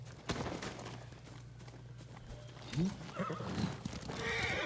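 A horse in the video game Ghost of Tsushima whinnies loudly partway through, with hoof clip-clops and game ambience around it.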